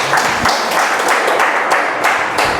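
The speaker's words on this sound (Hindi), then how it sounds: "चलिए एक बार उनके लिए ताली हो जाएगी" Audience clapping at a DXN training session: a steady, loud round of applause with many hands that runs continuously from start to end, with no one talking over it.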